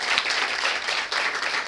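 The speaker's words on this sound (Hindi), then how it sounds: "ताली बजाओ बच्चे के लिए।" A classroom of students applauds for a child, steady dense clapping filling the moment without a break, close and fairly loud, with no talk over it.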